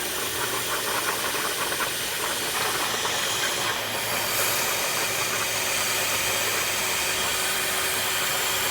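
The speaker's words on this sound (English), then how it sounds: "Now I'm just gonna run water through this, let it run the whole system" Water flushing through a 2012 Chevrolet Cruze engine cooling system and pouring out of the radiator's open drain, a steady broadband hiss and rush that runs unbroken and loud throughout, with no talking.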